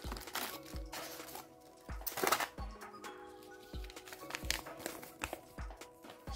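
Plastic and cardboard packaging of an aftermarket Solex car lock set is torn open by hand, giving quiet crinkling, rustling and a few taps and thumps in an irregular, close-up stream.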